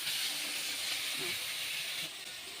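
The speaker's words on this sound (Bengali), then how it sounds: "আলুটা আমি একটু সুন্দর করে একটু ফ্রাই করে নিই" Potatoes fry in a pan with a soft, continuous sizzle and hiss that eases a little near the end.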